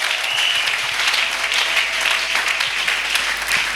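A church congregation claps and applauds for Jesus in a steady, dense burst of clapping that lasts throughout, loud and close with no pauses.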